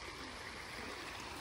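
Muddy river water, swollen after rain, rushes along in a brief, steady, soft flowing wash with no pauses.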